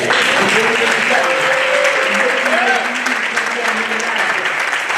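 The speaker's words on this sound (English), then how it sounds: "If everyone can give them a hand" Sustained applause from a room full of people, dense steady clapping throughout, with a voice speaking over it.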